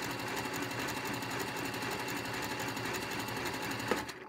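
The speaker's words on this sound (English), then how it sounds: "I let the foot back down, and then I can resume sewing." A sewing machine stitches an overcast seam on a garment with a zipper, a steady, rapid mechanical chatter running continuously at moderate loudness and ending with a small clunk.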